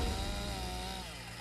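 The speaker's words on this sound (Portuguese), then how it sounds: "Para isso, usam uma motosserra." A chainsaw runs at a loud, steady whine while cutting a rhinoceros horn, the engine note holding close and constant with a slight drop in level toward the end.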